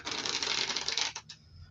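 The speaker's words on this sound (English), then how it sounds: "Fully shuffling this all together." A deck of playing cards riffle-shuffled at close range: a dense, rapid flutter for about a second that ends in a quick snap as the cards come together, with no talking.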